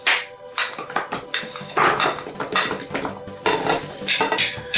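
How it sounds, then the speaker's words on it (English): Sliced strawberries, pears and apples dropped into a large bowl, a close series of soft knocks and clattering taps against the bowl with brief pauses between handfuls. "Grab yourself a large bowl, place the fruit in."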